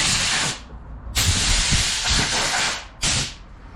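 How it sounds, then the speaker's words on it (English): Compressed-air blower clearing dust from around the spark plug area of a 2014 Nissan Frontier 2.5 L engine, three close, loud hissing blasts: a short burst, a long sustained blast, then a brief final puff. "I wanna use the air blower to remove any of the extra dust"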